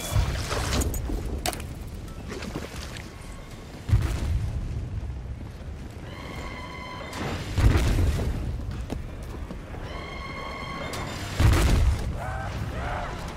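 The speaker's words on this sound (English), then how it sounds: "Who's dropping bombs?" Booming bomb explosions in the video game Black Ops III, several heavy blasts landing at intervals amid dense game noise and a mechanical whine, loud and close.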